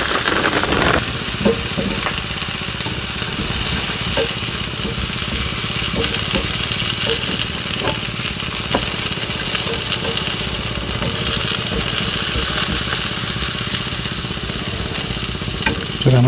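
French toast sizzles and fries in a skillet, a steady close crackle running the whole time with occasional soft clicks of a utensil.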